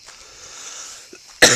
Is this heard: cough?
yes